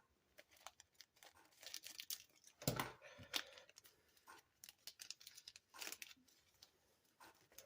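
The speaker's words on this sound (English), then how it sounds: "So we'll cut this open" Crinkling plastic and sharp snipping and tearing as scissors cut open packaging for lawn mower intake gaskets, close up and irregular, with a louder rustle partway through.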